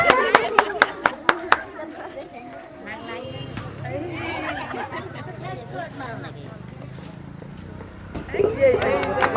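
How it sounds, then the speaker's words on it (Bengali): A group of children give a loud burst of rapid clapping after a turn in a village football-throwing game, sharp claps at the start giving way to outdoor chatter and crowd babble, with more clapping returning at the end. "জোরে একটা হাততালি।"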